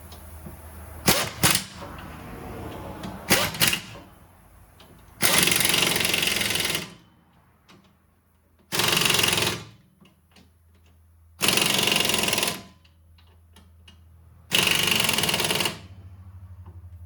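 An impact wrench rattles on the wheel hub of a 2008-2012 Honda Accord, starting with short bursts and then running in four longer loud hammering runs of about a second and a half, separated by quiet pauses.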